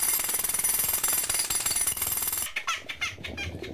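A pneumatic drill hammers rapidly and harshly for about two and a half seconds, then stops, leaving fainter scattered clatter and knocks.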